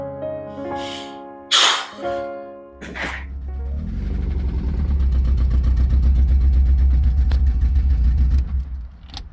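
A car engine with rod knock and 14 quarts of gasoline in the crankcase starting up after a few sharp cranking bursts, then settling into a rough, loud idle with a rapid ticking knock running underneath.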